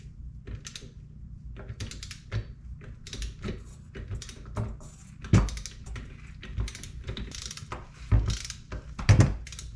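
A 19 mm strut lock nut on a Porsche 911 996 front coilover is tightened with a ratchet, giving bursts of close metallic clicking with a few sharper clanks, no talk.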